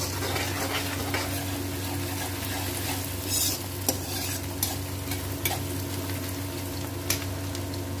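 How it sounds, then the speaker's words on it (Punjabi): Onion and garlic stir-fry in hot oil for a cabbage and pea sabzi, a continuous close sizzle broken by scattered spatula scrapes and taps against the pan, with no talking. "ਆ ਪਾ ਕੇ ਪਿਆਜ਼ ਅਤੇ ਲਸਣ,"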